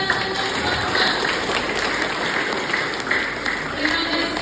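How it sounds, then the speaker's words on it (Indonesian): Lively applause for students at a community-service program closing event, a steady dense patter of many hands clapping across a reverberant room, with some voices faintly underneath. "Tepuk tangan yang meriah untuk teman-teman."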